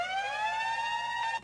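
A siren sample from a track sounds in a house production, one steady rising wail that cuts off abruptly near the end.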